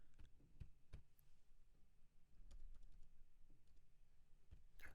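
Computer keyboard typed with a single finger, slow irregular clicks and taps spaced apart, close but quiet over a faint background hum, with no voices.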